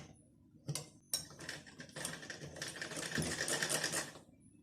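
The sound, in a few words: sewing machine stitching a blouse lining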